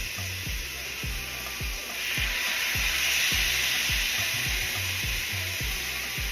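Loud, steady sizzle of carne asada frying on a hot flat-top grill, with rhythmic low scraping taps of a spatula repeating throughout.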